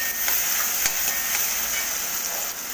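Chopped onions frying with salt in a hot pan for a lentil and tomato curry, giving a steady close sizzle with a few light stirring knocks and no voices.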